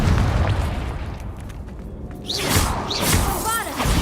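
Fiery Confringo spell blasts in Hogwarts Legacy combat, a loud booming burst followed by whooshing magical effects, with a voice talking alongside.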